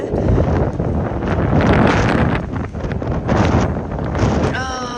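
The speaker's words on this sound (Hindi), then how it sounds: "बहुत ठंडी हवा चल रही है।" Cold wind gusts loudly across the microphone beside the Flame Towers in Baku, Azerbaijan, after rain, a continuous roaring rush that swells and dips over the seconds.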